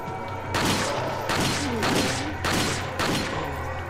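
Loud booming gunshots in Resident Evil 4 HD, about five heavy blasts in quick succession with short gaps between them.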